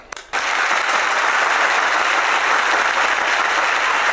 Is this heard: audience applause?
yes